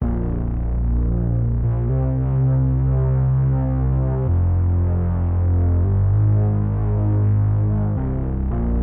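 A thick, dark FL Studio bass synth preset plays sustained low notes that shift pitch every couple of seconds, warm and muffled with the highs cut by EQ and lows slightly boosted.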